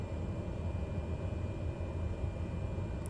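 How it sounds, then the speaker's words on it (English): Low, even rumble of an airliner's engines while the plane taxis, heard from inside the cabin as a continuous broadband drone with no voices. "the white noise of the plane as we slowly taxi to wherever we're supposed to go"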